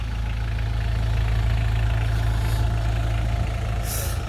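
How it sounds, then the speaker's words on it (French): A 1989 Mitsubishi Delica diesel engine idling, a loud, steady low rumble with a constant throb that holds evenly throughout, close by and with no one talking. "les moteurs diesel sont quand même bruyants"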